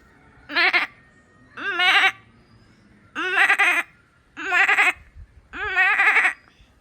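A seventh-grade boy imitates a female goat, giving five separate, wavering nasal bleats with short pauses between them, close and clear against a quiet background.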